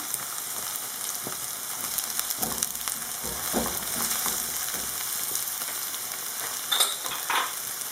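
Onion and two garlic cloves frying in olive oil in a pan for mushroom pasta, a soft steady sizzle with scattered stirring taps, including a brief louder clatter near the end.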